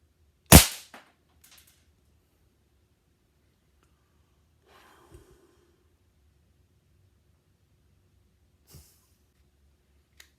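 Three sharp pops from a gas-powered airsoft Makarov pistol, one loud crack near the start followed by two fainter, widely spaced shots, with quiet in between.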